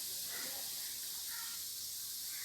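Ginger garlic paste sautés in a pan with a quiet, constant hiss of sizzling oil, soft and even with faint swells, no talking.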